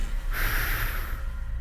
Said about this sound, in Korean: 한숨 쉬는 것 봐봐, 고양이.